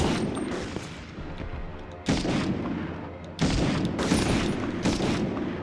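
Video game combat with gunfire and grenade explosions, dense bursts of shots and booming blasts coming in waves, growing louder toward the end.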